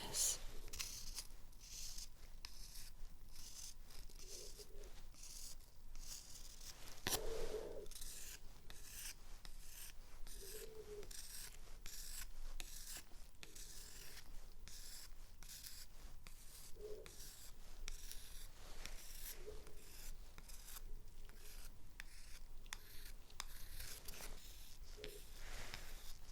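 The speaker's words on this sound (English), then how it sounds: "now just using these to scrape the surface." Steady close scraping on a surface during a role-play medical exam, a dense run of fine rasping strokes lasting throughout, soft and intimate with no voice.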